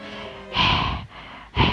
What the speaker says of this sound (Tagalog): hingal na hingal ako.